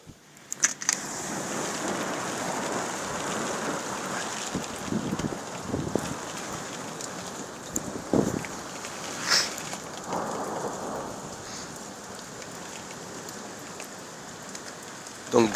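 A violent thunderstorm over Carpentras, Vaucluse, in March, with steady rain pattering on surfaces, low rolling thunder, and a few sharper cracks standing out over the constant downpour.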